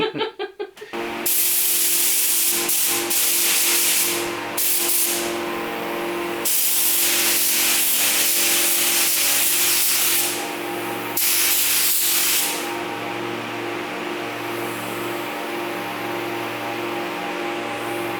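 A spray gun hisses steadily for long stretches, spraying black paint onto card, loud and close, with brief pauses between bursts and no talking.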